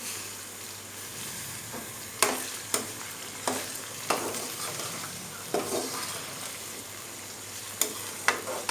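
Green chilies and cubed tomatoes hit frying onions in a pan for dhaba-style masala bhindi, giving a steady sizzle broken by several sharp stirring scrapes and clinks, close and without talk.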